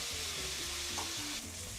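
Pieces of beef frying in a pan with rendered fat, a steady close sizzle with a brief crackle partway through, no voices.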